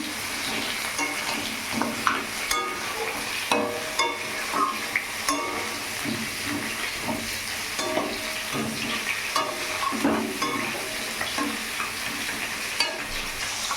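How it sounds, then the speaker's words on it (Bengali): Steady sizzling of catla fish heads frying in a pan, with a spoon repeatedly scraping and stirring through them; no talking. "মাছের মাথাগুলো দিয়ে নাড়ি নেবো ভালো করে"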